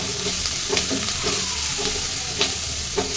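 Onion, chili powder and turmeric are stirred in a pan with a spoonful of mustard oil, producing a close, steady sizzle punctuated by regular scraping strokes of the spoon, without speech.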